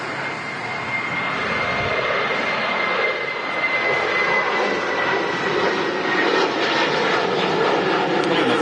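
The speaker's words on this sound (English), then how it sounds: "757 on the way out, Tom" A Boeing 757 jet airliner departing Manchester Airport, a loud sustained engine roar with a whining tone that swells slightly toward the end, heard alone without talk.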